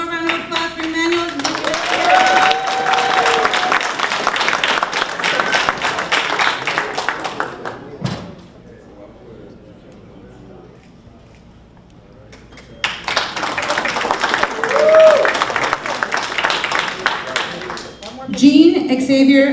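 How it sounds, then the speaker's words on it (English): Clapping from an audience at a graduation ceremony for construction trainees comes in two bursts separated by a quieter gap, with voices talking over and between the rounds. "One more round of applause for Emmanuel."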